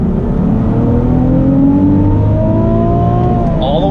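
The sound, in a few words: Nissan 370Z NISMO accelerating in first gear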